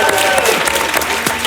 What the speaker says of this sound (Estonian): teeme suure aplausi